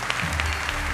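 Church congregation applauding during a Portuguese-language service, a short, thick wash of clapping from many hands heard close and steady.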